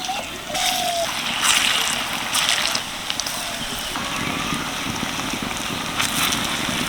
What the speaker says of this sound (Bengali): তেল গরম হয়ে গেছে এবার এক এক করে তেলের মধ্যে ছেড়ে দিচ্ছি